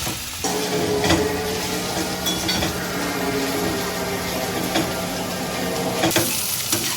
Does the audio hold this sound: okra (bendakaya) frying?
yes